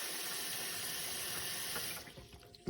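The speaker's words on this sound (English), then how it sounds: "Get some water in there." Tap water pours steadily into a container holding a few eggs, a bright, continuous splashing rush up close that cuts off abruptly near the end.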